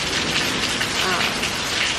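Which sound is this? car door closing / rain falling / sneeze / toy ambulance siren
rain falling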